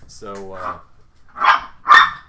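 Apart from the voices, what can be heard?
dogs barking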